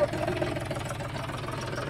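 A new John Deere 5050D tractor idling near a garage, a steady low rumbling engine chug that holds even throughout, close by with faint voices behind it.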